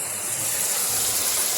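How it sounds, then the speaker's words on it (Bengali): Prawns frying in a hot pan give a steady, loud, even sizzle and hiss that stays constant throughout, close up and without any speech over it. "চিংড়ি ভাজা হচ্ছে।"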